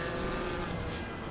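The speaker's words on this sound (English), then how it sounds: "Doesn't it sound great, that Porsche there?" A Porsche GT race car in the Assetto Corsa EVO racing game, running at Brands Hatch, gives a steady, dense engine roar at constant high revs, heard alone throughout.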